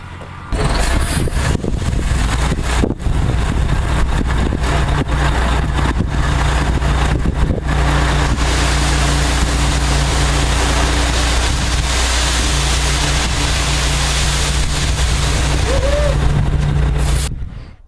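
A dump truck delivers and drops 8 tons of gravel at a metal garage build site. Its engine rumbles steadily at close range for the whole stretch, with a loud, continuous rushing roar layered on top, and no one talks.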